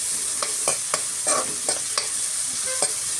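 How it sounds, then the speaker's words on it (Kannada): Finely chopped onions fry in a pan for paneer masala, with a loud steady sizzle and periodic spatula scrapes heard close up, no voices. "ಸಣ್ಣದಾಗಿ ಕಟ್ ಮಾಡಿ ಇಟ್ಕೊಂಡಿದ್ದಂತಹ ಈರುಳ್ಳಿನ ಸೇರಿಸ್ಕೊಳ್ತಾ ಇದ್ದೀನಿ. ಸೇರಿಸ್ಕೊಂಡು ಒಮ್ಮೆ ಚೆನ್ನಾಗಿ ಫ್ರೈ ಮಾಡ್ಕೊಳ್ತಾ ಇದ್ದೀನಿ."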